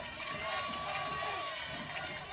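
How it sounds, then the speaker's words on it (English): A steady roar of an animated softball crowd cheering in a stadium during a Michigan versus Ohio State game, continuous and dense with mixed shouts. "And this is a very vocal crowd."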